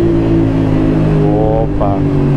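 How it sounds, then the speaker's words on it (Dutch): A Yamaha Tenere motorcycle engine hums loudly and steadily, then briefly rises in pitch twice as it is downshifted, with a rider's voice talking over it. "Altijd een lekker geluidje hier. Terugschakelen."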